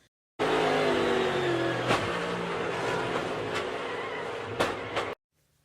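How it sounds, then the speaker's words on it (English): NASCAR Cup cars roll past under caution at Arizona, a loud engine drone that starts abruptly, holds with shifting pitches as cars pass, then cuts off sharply near the end. "Caution out at Arizona again, as we see the cars pacing around the field."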